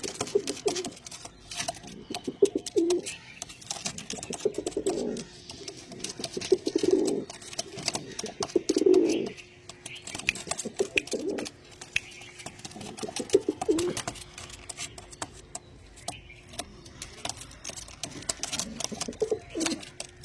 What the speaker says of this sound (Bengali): দেখুন পায়রা